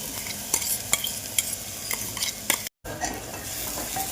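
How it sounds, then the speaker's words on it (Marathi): Green ground paste sautéing in hot oil with asafoetida for dal palak, a steady soft sizzle broken by repeated stirring scrapes of a spoon against the pan, close and moderately quiet, with one brief dropout near the end. "परतून घेऊया."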